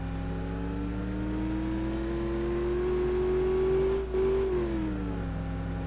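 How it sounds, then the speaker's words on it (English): A V8 truck engine in BeamNG Drive revs steadily upward, its harmonics climbing and holding near peak before a brief dip and settling back, loud and continuous with no talk over it. "And that V8 sound that this thing has is just awesome."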